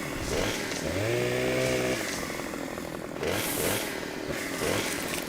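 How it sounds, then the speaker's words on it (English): Virtual chainsaw in Farming Simulator 25 cutting a tree, a loud steady engine drone that revs up and down in surges, running continuously and alone with no voices over it. "This chainsaw sounds more real."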